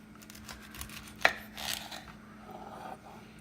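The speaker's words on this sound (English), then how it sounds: "So for this half, I'm going to try to make some slices." A knife slices through a halved dragon fruit, one crisp cut near the start over quiet kitchen background, with faint handling noise around it.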